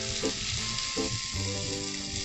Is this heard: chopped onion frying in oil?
yes